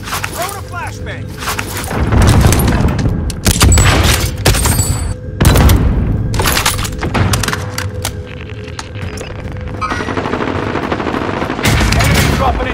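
Loud machine-gun fire and thudding grenade and flashbang blasts in the video game Call of Duty: Modern Warfare, with dense, continuous combat noise and voices speaking intermittently underneath.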